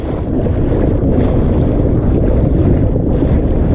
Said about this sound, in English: Nope, there's the wind again.